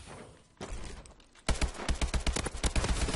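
AK rifle fire in the Call of Duty Advanced Warfare game: quiet game noise first, then a sudden burst of rapid automatic shots in a fast rattling rhythm for the last half.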